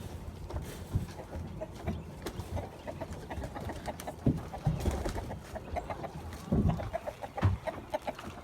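Wyandotte chickens cluck and murmur in a backyard flock, with short bursts of clucking scattered over a steady low outdoor background, fairly close and moderately loud.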